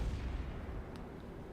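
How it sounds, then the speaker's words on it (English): Naval gunfire from a battleship in World of Warships, a deep rumbling boom with a low heavy tail, fairly faint and dull, heard alone. "More shots out at him."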